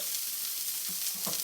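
Hosta buds frying in a hot pan until dark and crispy, a soft, steady sizzle with a few brief crackling pops near the end and no talking.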